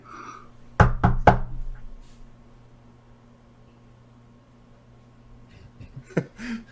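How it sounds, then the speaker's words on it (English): Three sharp knocks on a front door land close together, then a long quiet stretch with faint room noise and a few soft rustles near the end. "I will knock again"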